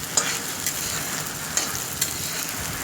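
Ingredients for a spicy pangas fish bharta frying in a pan, a continuous close sizzle with a few sharp clicks of a spatula against the pan.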